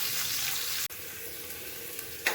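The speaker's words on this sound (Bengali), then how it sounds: "কুচনো পেঁয়াজ আর রসুন দিয়ে দিলাম।" Chopped onion and garlic frying in hot mustard oil in a kadai with dried red chilli and nigella seeds, a steady broad sizzle with one brief dropout and a small clatter near the end.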